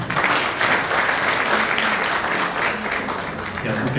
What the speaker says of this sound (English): Let us give a more hearty clap